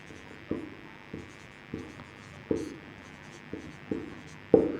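Handwriting on a board or paper while solving a Class 12 maths exercise, with a steady scratchy stroke sound broken into several short bursts of roughly one per second, close and clear with no talking.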